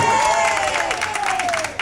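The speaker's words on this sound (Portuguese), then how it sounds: "Pessoal, uma salva de palmas bem animado para ela" Party guests at a birthday cheering and clapping, a lively mix of applause and excited voices with a sustained held tone, fairly close and loud over the short burst.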